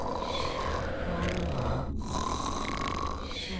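A voice imitates snoring: a steady, continuous rasping drone that runs nearly unbroken, with one brief gap near the middle, close and moderately loud.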